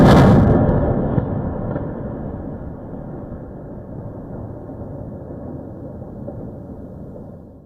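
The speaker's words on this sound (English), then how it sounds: "Explosions lit up the night sky over the Lebanese capital as Israeli airstrikes pounded" A heavy explosion from an Israeli airstrike on Beirut at night bursts loudly at the start, then a deep rumbling roar trails off over several seconds, heard alone.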